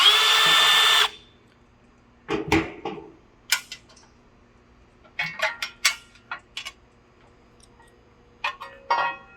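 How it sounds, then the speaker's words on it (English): A power drill backs out two Phillips screws from a grill lid's hinge cover in short whirring bursts separated by pauses, preceded by a brief loud noise burst, close and alone. "unscrew the 2 Phillips screws."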